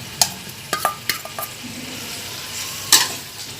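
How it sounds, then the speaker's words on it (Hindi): Chicken pieces sizzle and fry in a pan with garlic and ginger for biryani, broken by several sharp stirring scrapes and clinks of a spoon against the metal; close and fairly loud, with no talk. "अब इसको 2-3 मिनट तक हम लहसुन अदरक डाल के भूनेंगे।"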